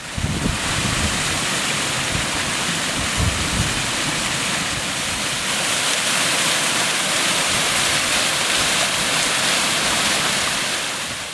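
Small waterfalls tumble through a little gorge on a hillside burn on the climb from Sannox toward Goatfell, a steady full rushing roar, close and continuous, with occasional wind buffeting the microphone.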